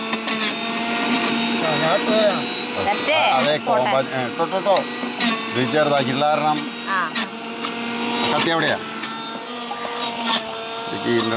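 A blender whirs steadily while making a healthy juice at a family get-together, a loud continuous motor drone running throughout as people talk over it.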